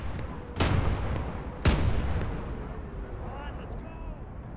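Two loud, sharp artillery gun blasts a second apart in the Gates of Hell war game, each with a booming rolling tail, followed by fading rumble and distant battle noise.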